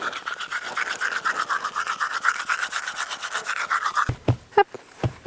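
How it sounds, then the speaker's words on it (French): Toothbrush scrubbing teeth outdoors facing Mount Etna in Sicily, a close rhythmic bristly rasp repeating steadily for about four seconds, then a few sharper handling knocks and rustles. "Je brosser les dents face à l'Etna"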